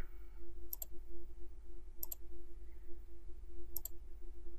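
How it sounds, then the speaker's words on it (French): Mouse clicks in 3D retouching software come in three double-click pairs spaced about a second apart, placing points. They are crisp and close over a steady low hum, with no talking. "Un clic pour poser le point et un clic long pour ouvrir la loupe."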